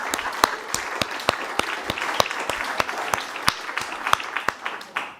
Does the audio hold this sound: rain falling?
no